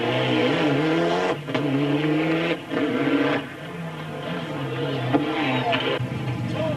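A Mitsubishi Lancer Evolution 6 Group A rally car at the start of the 2001 Rali Sical, its engine revving steadily and loudly. Pitch rises and falls over several seconds, with brief dips in between.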